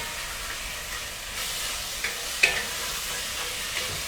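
Dahl gosht ingredients sautéing in an Instant Pot before pressure cooking, a steady hissing sizzle with a few light utensil taps and scrapes, close and moderately loud.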